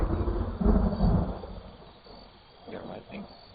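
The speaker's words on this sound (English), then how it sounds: "Yeah, lightning." Thunder from lightning in an online video game: low rumbling rolls swell and fade over a few seconds, with faint voices in the background.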